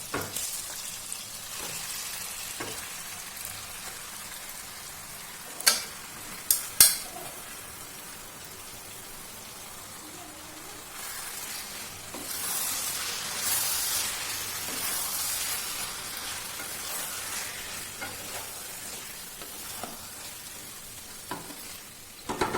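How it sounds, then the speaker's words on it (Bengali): Marinated chicken sizzles and fries in a hot pan for a chicken pulao, a continuous crackling hiss with a few sharp clanks and scrapes as it is stirred, no talking. "এবার আমি এতে অ্যাড করব ম্যারিনেট করে রাখা চিকেনটা"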